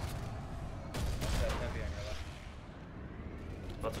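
Rapid gunfire in PlanetSide 2 crackles in bursts, with heavier booms near the middle, over a busy battle din and some voices.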